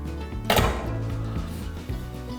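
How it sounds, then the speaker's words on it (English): The door of an Ecosy+ Lunar 5 multifuel pedestal stove, finished in black, is swung shut, giving a single dull thunk close by, followed by a quieter settling knock. "So I'll close the door up."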